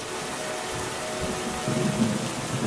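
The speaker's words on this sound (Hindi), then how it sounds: "कुछ दिनों बाद बहुत तेज बारिश होने लगी" Heavy rain pours down steadily with a low thunder rumble underneath, a dense continuous wash of sound heard as a story effect.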